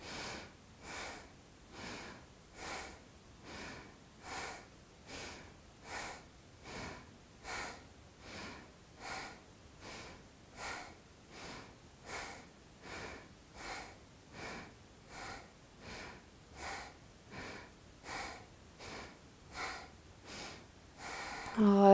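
Deep yoga breathing is heard during a dynamic flow session, with about two dozen even, rhythmic breath cycles of soft airy inhales and exhales, close and steady, and no talking.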